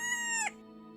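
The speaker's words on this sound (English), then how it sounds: "That one made me jump there, the chicken sounds." A chicken sound effect plays during a jigsaw puzzle livestream, a short bright clucking squawk with a falling pitch that cuts off sharply after half a second, loud and alone with only a faint background hum after.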